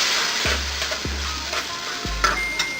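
Masala of tomatoes sizzling as it roasts in a kadhai for Pindi chole, a steady close frying hiss with three soft low thumps of stirring or spoon knocks.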